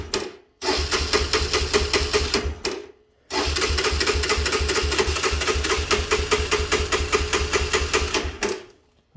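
An ATC 250SX three-wheeler engine with the choke on starts and buzzes in rapid, even firing pulses. It cuts out after about two seconds, restarts, then runs steadily up close before dying away near the end.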